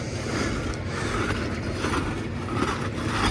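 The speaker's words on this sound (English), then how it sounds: "as I go over it with the backside of my rake here" Rake backside scraping over a flat roof membrane, a steady broadband rasp that stays close and continuous throughout with no voices.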